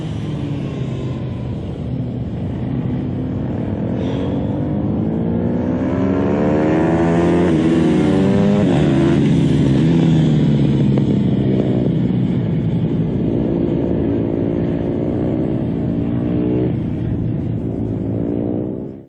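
A motorcycle leans through a series of S-curves, its engine note climbing and falling in pitch as it brakes and accelerates between bends, loud and close for the whole run.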